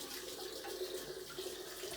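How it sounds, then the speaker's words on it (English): Hot water gushing steadily from a tap into a glass, a constant close hiss with no talking over it. "Get that water going nice and hot here."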